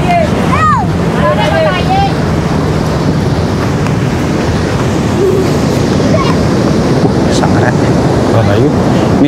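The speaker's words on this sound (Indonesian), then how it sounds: "Ini suasana ombak yang ada di Pantai Malang Selatan saat ini teman-teman." Large ocean waves surge and crash on the beach at South Malang, a loud continuous roar of surf mixed with strong wind buffeting the microphone, with brief bird chirps early on.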